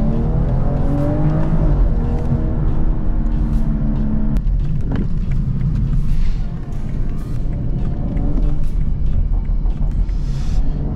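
A BMW 540i G30 engine drives and revs under load, a loud, deep rumble with rising and falling pitch sweeps, closely recorded inside the car, with a brief sharp change partway through.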